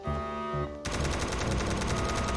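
Rapid automatic gunfire in a Roblox SCP game, a sustained burst of dense, evenly spaced shots following a quieter stretch of game sound.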